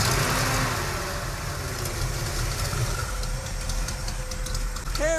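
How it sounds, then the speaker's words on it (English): A classic muscle car with a broken carburetor runs at a rough, loud idle, a steady low rumble with a slight rise, close to the microphone. "give it a little rev"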